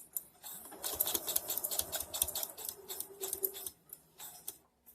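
Sewing machine running back-and-forth stitches on fabric for homemade shorts or a skirt, a close whirring, rattling hum with short bursts and brief stops.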